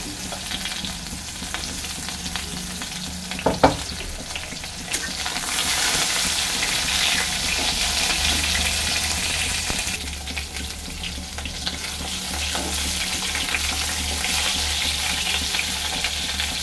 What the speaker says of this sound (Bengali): ঝিঙে হালকা ভাজা হয়ে গেছে, ঝিঙে বেশিক্ষণ ভাজলে আর কিছুই পাবো না।